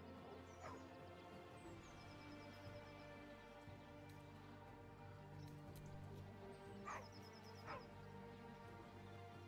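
A dog in the fantasy role-playing game Baldur's Gate 3 barks several times in short separated yips, heard moderately close over a continuous soft background of game ambience.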